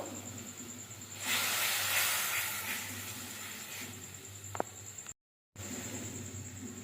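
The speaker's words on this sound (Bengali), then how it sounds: "দিয়ে দেবো কাঁচা লঙ্কা রসুন আর আদার পেস্টটা এটাও ভেজে নেবো" Green chilli, garlic and ginger paste frying in a pan for paneer do pyaza, a soft, steady sizzling hiss that swells when the paste goes in, then settles.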